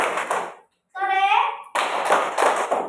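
Children in a classroom clap their hands in short bursts of sharp, close claps, with a gap where a voice speaks in Indonesian before the clapping returns.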